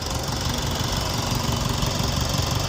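A Land Rover Discovery Sport with the 2.0 engine runs at a steady idle, a loud, close, continuous rumble with a fine knocking texture and no voices.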